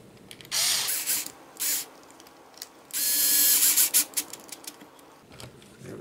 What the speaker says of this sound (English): Another MA2 screw is going in right here.